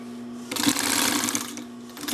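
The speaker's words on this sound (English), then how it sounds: "the roller foot is actually rolling around as I'm sewing" A Singer 44-9 walking-foot sewing machine fitted with a roller foot runs steadily, starting softly and then picking up into a dense, continuous mechanical whir with a steady hum underneath.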